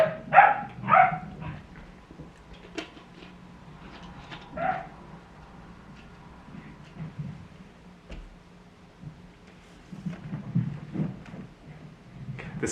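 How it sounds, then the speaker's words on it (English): A dog barking downstairs, heard as a few muffled, distant yips and barks early on and again midway, scattered faintly over a low background hum with no one talking. "The dog is barking downstairs"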